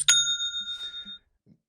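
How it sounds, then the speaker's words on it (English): Shopify new sale notification, a single bright bell-like ding that rings out and fades over about a second, clear and close with nothing else around it. "So that's the sound of a new sale."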